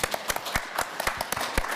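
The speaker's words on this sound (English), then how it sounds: "A round of applause for Kate." Sparse, separate claps from an audience at a panel introduction on a harassment-free company sound as a thin scattering of hand strikes, moderately close and fairly quiet, with no voices.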